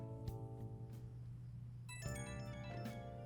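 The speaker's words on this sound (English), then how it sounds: "The phone is ringing." A phone ringtone chimes in the video game Persona 5 Royal, a bright melodic tone over a steady low game hum, faint and alone with no talking.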